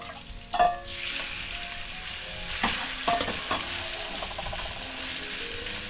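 Marinated prawns, seasoned with salt and black pepper, fry in butter and oil with a steady broadband sizzle, broken by a few louder spatters and stirring clatters near the start and middle; no talking.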